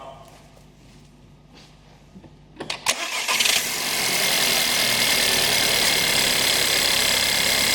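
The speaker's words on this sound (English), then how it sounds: "Let's start the car up." A VW car with an FSI/TSI engine and a newly installed pump cranks briefly, catches and starts, then settles into a steady, loud idle that runs on to the end.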